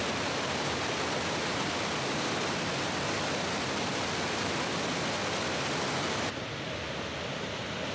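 Victoria Falls thunders as a massive waterfall, a dense, steady broadband roar that fills the whole clip without any voices, easing slightly toward the end.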